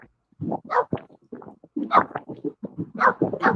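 A dog whimpers and yips in a series of short, wavering vocal bursts, close and fairly loud, like a dog trying to sing.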